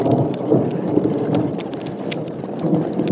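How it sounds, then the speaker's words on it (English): Low, steady rumbling of distant thunder rolls on continuously in Botswana, with a soft patter like rain and scattered light taps over it. "you can hear the thunder"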